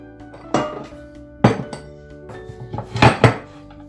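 A metal bread pan being handled as it is greased, with clanking and clinking knocks of metal on metal in uneven bursts, close and loud.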